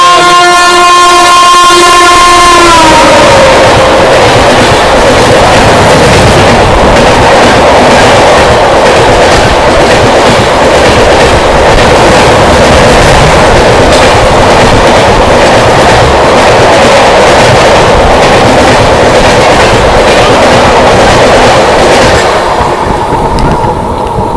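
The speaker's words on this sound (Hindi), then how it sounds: "जैसे ही अपनी ट्रेन को ओवरटेक करके गई है ट्रेन" A train overtakes at Kosi Kalan railway station, opening with a brief horn blast before a loud, sustained rumble and clatter of wagons rushes close by for over twenty seconds, then starts to fade.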